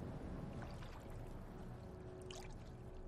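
Water pouring in the video game Brothers: A Tale of Two Sons, a steady close splashing wash that stays loud and continuous for about three seconds, with a brighter trickle near the end.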